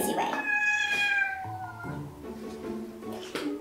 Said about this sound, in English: She just suddenly meows and then wants to attack me.